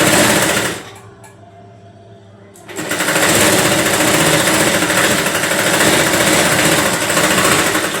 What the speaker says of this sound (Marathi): इथून अशी शिलाई मारायची, लॉक करायचा अर्धा इंचावर